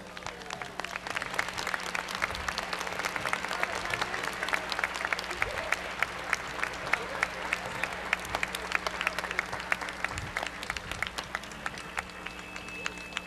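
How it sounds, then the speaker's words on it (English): Big crowd gathered outside the Civic Center applauding and cheering St. Jude runners as they arrive, with dense continuous clapping and crowd noise throughout, occasional voices mixed in. "A big crowd outside the Civic Center is welcoming the St. Jude's runners"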